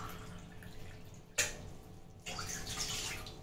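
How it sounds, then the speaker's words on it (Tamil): Water poured into a pot of soaked basmati rice while cooking veg dum biryani: a sharp splash, then a steady, close rushing pour that continues to the end, with no talk. "இப்போ இதில் நான் வந்து ஒரு கிளாஸ்க்கு 6 glass தண்ணி ஊற்றி வச்சிடுறேன்."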